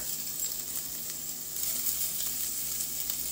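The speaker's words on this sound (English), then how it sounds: "you want to put it in the pan in little crumbles so that it will cook down and render" Crumbled sausage fries in a pan for a Southern sausage and rice dish. A steady, close, crackling sizzle runs throughout with faint scraping now and then, and no voices.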